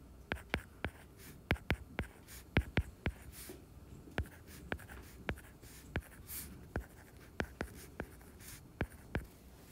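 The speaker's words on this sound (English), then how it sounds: "So I just write them out." Pen or pencil writing out geometry congruency statements by hand, a run of sharp, close taps and short strokes in an irregular rhythm, with no voice over it.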